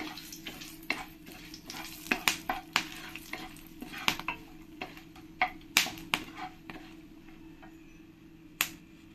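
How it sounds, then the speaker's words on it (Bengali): Dry red chillies, bay leaf and whole spices frying in hot oil, crackling with sharp irregular pops and spits over a low sizzle, close and fairly quiet with no talk. "এবার আমি এর মধ্যে শুকনো লঙ্কা, তেজপাতা আর কিছু গোটা মশলা দিয়ে দেব, দিয়ে ভালো করে আমি একটু ভেজে নেব"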